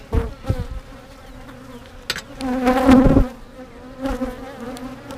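Honeybees buzz in a freshly opened hive that may be a dead-out colony with only some bees left. The droning is close and wavering, swelling louder for a moment midway.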